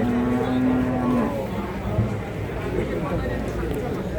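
A large red-brown cow moos once at the Babat Lamongan cattle market, a low sustained call up close, followed by market bustle and people talking nearby.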